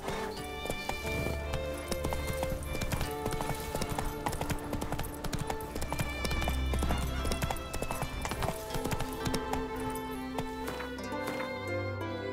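Roach, a horse in The Witcher 3, galloping in a steady rapid clip-clop of hooves, loud and close, with game music layered underneath.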